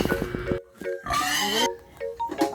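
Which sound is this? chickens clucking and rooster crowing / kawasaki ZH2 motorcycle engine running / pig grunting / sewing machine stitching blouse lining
pig grunting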